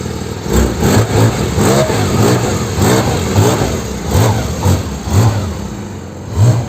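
A 2024 Porsche GT4 Spyder RS with an Akrapovic exhaust revs hard and close, with repeated loud rising engine surges in a steady rhythm across the whole stretch.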